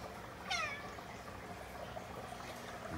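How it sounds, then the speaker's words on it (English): A single short cat meow rises out of steady background hiss in a room with a 10-gallon tank of koi fry, fairly close and fading quickly. "and a fat cat"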